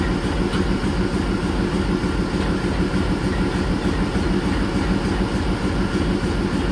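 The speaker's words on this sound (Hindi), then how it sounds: "ये है हमारा आज का लोकोमोटिव" An Indian Railways locomotive-hauled train running, a loud, steady low rumble and rolling drone that holds without a break and without speech.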